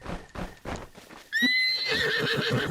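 Horse in the video game Zelda: Breath of the Wild, with hoofbeats giving a quick clip-clop rhythm, then a loud, close whinny rising over continued hoof noise.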